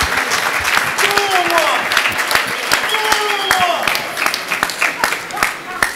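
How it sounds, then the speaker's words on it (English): Audience applause greets guests called up onto a stage, a dense, steady clatter of clapping, with cheers and a few voices rising over it throughout. "Give them a big round of applause"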